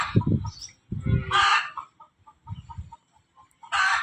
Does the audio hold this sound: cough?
no